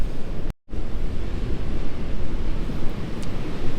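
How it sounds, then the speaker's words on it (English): Large ocean waves breaking on the rugged, rocky Catlins coast of New Zealand, a steady loud roar of surf and wind that cuts out for a moment, then surges back and keeps rushing. "Big waves coming"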